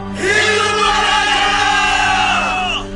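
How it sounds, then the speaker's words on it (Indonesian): A crowd of people shouts together in a sustained, loud roar of voices, staged as a dramatic scene where the populace cries out after a king is anointed, held for nearly three seconds before trailing off. "Lalu berserulah rakyat."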